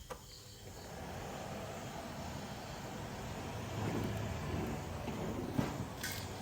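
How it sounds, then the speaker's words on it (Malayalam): A Kenstar air cooler fan runs after a repair, giving a faint, steady whirring hum that continues evenly with a slight swell midway and a brief knock near the end. "ഫാനിൻ്റെ വർക്കിംഗ് പക്കയായിട്ടുണ്ട്."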